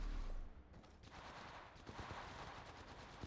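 Bursts of gunfire in the video game Apex Legends, a steady run of rapid shots and impacts that stays dense and loud for a few seconds.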